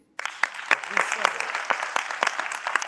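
A conference audience breaks into applause after a brief silence, many hands clapping in a dense, steady patter with some sharper claps standing out, moderately near.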